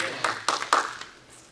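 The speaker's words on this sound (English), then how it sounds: "let's give God a hand clap of praise today" A church congregation claps hands in praise, a few loose, uneven bursts of applause over roughly a second that fade out quickly.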